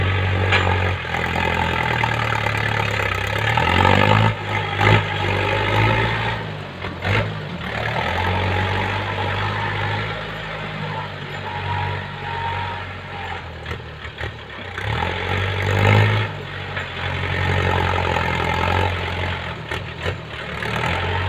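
A tractor engine idles steadily with a deep low rumble throughout, rising slightly a few times, with no voices.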